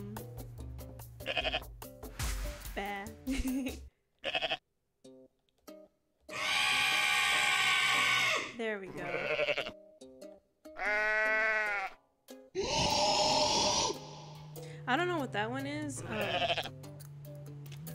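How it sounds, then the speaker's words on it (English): Goat bleats from the video game Goat Simulator, several loud, wavering cries arriving in separate bursts, mixed with game sounds and a person talking between them. "That was totally a goat sound."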